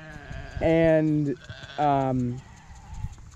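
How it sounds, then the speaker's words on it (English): Two loud sheep bleats sound close by, one after another, with a short pause between them and faint background noise. "these are the sheep."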